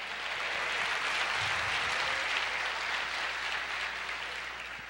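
A church congregation applauds during a sermon, sustained even clapping from many hands filling the room, steady throughout with no voices standing out.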